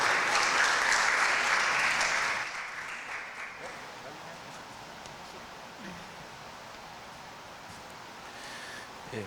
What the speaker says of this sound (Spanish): Profesor Jaime, por favor recibámoslo con un fuerte aplauso